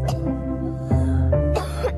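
A few dry, raspy coughs in quick succession in a Polish cough medicine advert, close and fairly loud, with no talking.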